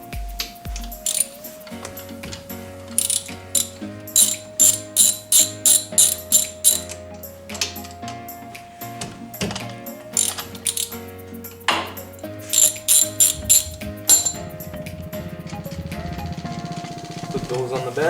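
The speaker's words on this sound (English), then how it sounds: "we'll start off by removing these two bolts that go on the slider pins" Ratchet loosening the bolts on the brake caliper slider pins of a 2013 Chevrolet Sonic, with bursts of close, rapid clicking, clanks of tools and metal parts, and someone talking at times.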